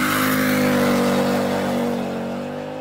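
Car with a 2.4 engine swapped in to replace its original 1.8 and a straight pipe exhaust, revving loudly up close in a sustained, raspy, buzzing drone that eases off slightly toward the end.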